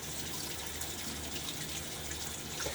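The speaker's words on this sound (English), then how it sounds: "Just rinsing off my brush handle here" Running water pours steadily from a tap over a shaving brush handle as it is rinsed during a wet shave, a constant close hiss and splash with no pauses.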